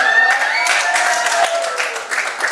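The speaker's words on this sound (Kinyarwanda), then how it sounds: "Amashyi ayo ntabwo ari amashyi," Wedding guests clapping together in a loud, dense burst of applause with tonal voices or cheers mixed in, sustained throughout and fading slightly at the end.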